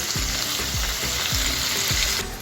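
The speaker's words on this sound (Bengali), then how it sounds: "উল্টে পাল্টে খুব সুন্দর করে পনিরগুলোকে ভেজে নেব" Paneer cubes fry in an oil-filled pan while they are turned over, giving a steady close sizzle broken by regular soft scraping strokes about every half second. No voices.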